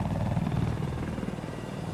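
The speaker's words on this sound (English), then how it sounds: "there's a chopper, there's a chopper." Enemy helicopter in the video game Battlefield, on the Golmud Railway map, a steady rotor and engine drone close by and loud, holding constant for two seconds with no talk over it.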